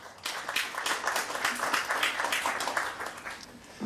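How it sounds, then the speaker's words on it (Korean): Guests at a Korean book launch event clap in welcome for a speaker, a moderate, fairly even stretch of applause from a seated audience, somewhat distant and soft, lasting a few seconds. "환영의 박수 부탁드립니다"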